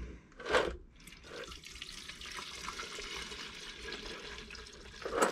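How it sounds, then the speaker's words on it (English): Chemical cleaner poured off Brembo brake caliper hardware from a Subaru Impreza STI, a close, steady splashing stream lasting a few seconds between short louder sloshes at the start and end. "Just pour off as much of the stuff as I can"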